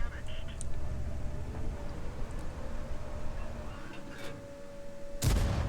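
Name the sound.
tank cannon shot in World of Tanks video game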